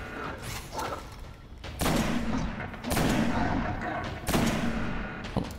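A sniper rifle fires in the shooter game Destiny with a few heavy, booming shots spaced a second or so apart over a constant background of game noise.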